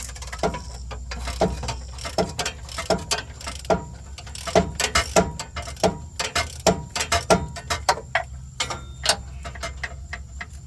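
A ratchet wrench clicks in quick repeated bursts while removing transmission bolts on a GMC K1500 4x4, with close metallic ticking strokes rising and falling over faint background hum.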